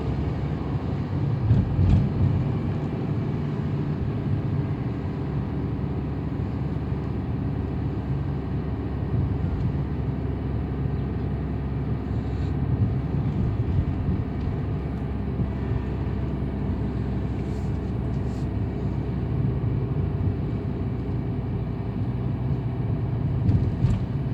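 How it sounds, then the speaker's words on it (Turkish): A car drives on a Bornova Evka 3 driving-test course, its engine humming steadily at low speed while being eased into second gear, a continuous near rumble with no talk. "Geçtikten sonra hafif gaza basarak aracımızı ikinci vitese alıyoruz"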